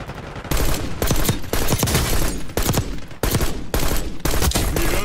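Repeated bursts of gunfire from a gun in Call of Duty: Black Ops 6, loud and close, firing in several rapid volleys with brief pauses between them and no talking over the shots.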